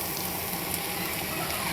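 Elephant foot yam pieces frying with spices in a pan give off a steady, close sizzle that holds at an even level throughout.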